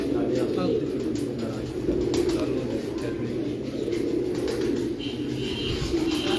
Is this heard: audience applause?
no